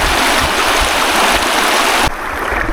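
Floodwater pours across a road in a steady, loud rushing wash, close to the microphone, dropping abruptly to a softer flow near the end.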